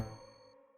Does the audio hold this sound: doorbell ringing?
yes